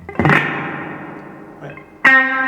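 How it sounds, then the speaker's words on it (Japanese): Two clean guitar chords ring out through a guitar amp's clean channel with strong spring reverb, each trailing a long, splashy reverb tail that slowly fades, with a softer note between them. "クリーンチャンネルにしてこれスプリングリバーブ今かけてます。"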